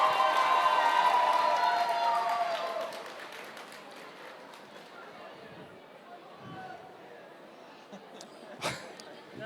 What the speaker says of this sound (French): Tonnerre d'applaudissements pour ce prix du jury.